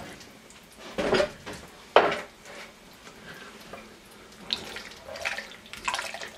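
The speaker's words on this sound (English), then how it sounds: "we're going to add more liquid to this. And I'm going to do equal parts water and milk." Water and milk poured into a pot of ham and potato soup, giving two short splashing pours about a second apart, then softer liquid sounds and light clinks of kitchenware close by.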